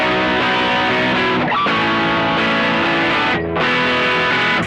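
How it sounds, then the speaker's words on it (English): An electric guitar plays through a distortion pedal, loud, sustained and saturated, with two brief dips between chords and no voices. "now I just have my distortion on"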